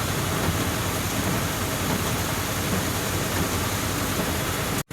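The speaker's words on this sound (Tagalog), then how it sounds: "bigla na lang lumakas ang ulan guys" Sudden heavy rain pours down at a busy port, a dense, loud, unbroken hiss of water that holds steady and cuts off abruptly at the very end.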